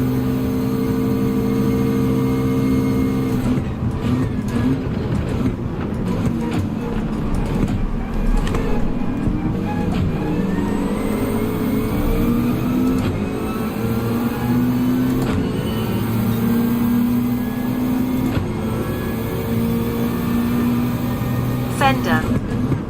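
A race car engine in Gran Turismo drones steadily down a straight, its pitch slowly rising through the gears, while a voice talks over it for much of the stretch.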